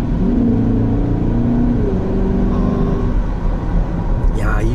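A BMW X6 M60i with a V8 engine accelerates in comfort mode, giving a steady, loud low rumble and whir that stays fairly constant throughout, with a brief higher sweep near the end.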